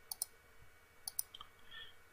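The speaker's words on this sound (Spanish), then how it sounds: "Y le damos el clic." Computer mouse clicks, two quick double clicks about a second apart, crisp and close against a quiet background.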